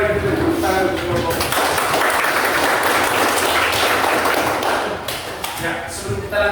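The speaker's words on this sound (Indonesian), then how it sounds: "Baik, sekali lagi mari kita tepuk tangan untuk kelompok." A room of participants at a training session applauds a discussion group, a dense, loud burst of clapping lasting about four seconds, with voices talking before and after it.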